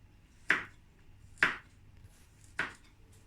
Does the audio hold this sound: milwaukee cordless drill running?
no